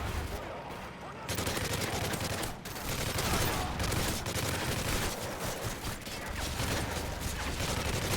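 Gunfire from Call of Duty MW3 Survival mode, with an MP5 submachine gun firing in rapid, sustained bursts among other weapons, loud and continuous with brief pauses, plus mechanical clatter.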